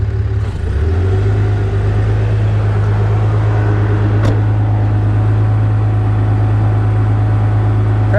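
A VMAC air compressor on a service truck starts up close by, a brief clatter and surge settling into a loud, steady mid-pitched drone that runs unbroken to the end.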